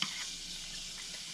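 Vegetables going into hot oil for a steak dish, giving a short, steady sizzle with a soft stir at the start, close by and continuous, with no talking.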